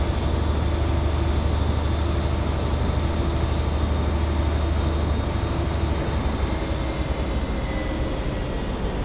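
A massive train in Train Simulator 2015 running steadily, with a loud continuous engine drone, rumble and high whine that stay even for the whole stretch.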